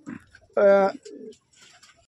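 Andhra breeding pigeons let out a single short, resonant coo up close, surrounded by quieter rustles and faint murmurs.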